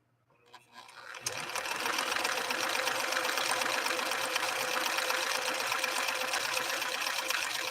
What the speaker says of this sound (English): launch with this tri-motion overlock stitch so you can see the action of the machine